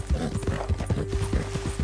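Horse hooves in the video game Red Dead Redemption 2 clop in a steady, quick rhythm on hard ground, close and distinct, with no talking.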